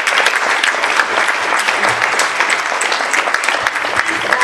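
Sustained, dense audience applause for vegetable farmers and vendors at an award ceremony, loud and steady throughout with no speech.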